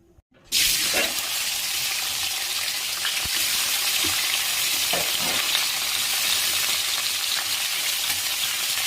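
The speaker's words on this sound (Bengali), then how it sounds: "চলুন বাকি ভাজাভুজিগুলো করে ফেলি আমি" Chowmein ingredients drop into hot rice bran oil in a wok and burst into a loud, continuous sizzle after a brief quiet start, with occasional stirring clinks through the frying.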